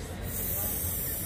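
A can of spray paint hisses steadily and up close while graffiti is painted, a continuous loud spray with faint voices in the background.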